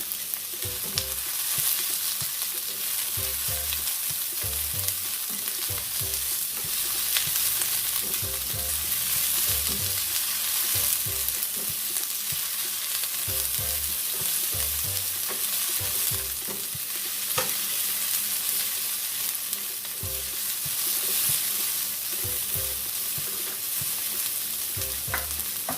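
Vegetables sizzle and fry in a pan for jerk chicken pasta while a utensil stirs and scrapes at intervals, a steady close hiss running through the whole stretch without speech.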